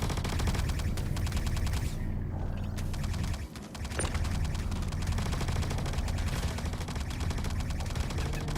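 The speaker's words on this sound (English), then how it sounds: "There's too many bullets flying around here for my comfort." Gunfire in the Star Citizen video game: dense, loud rapid automatic fire rattles continuously, with a brief lull midway before the bursts resume.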